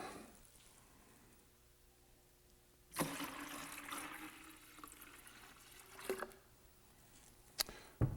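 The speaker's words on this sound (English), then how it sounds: "to the yeast collected, I'm going to add some of this sanitized water." Sanitized water poured onto collected brewing yeast in a large container during yeast harvesting, a broad splashing rush starting midway and running several seconds, with a brief gurgle and a sharper splash near the end.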